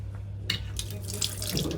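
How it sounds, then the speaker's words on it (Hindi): Water gushes from a tap in a train washroom, a loud, steady splashing rush that starts abruptly after a brief quiet moment and keeps running close by over a low rumble of the moving train. "पानी तो आ रहा है"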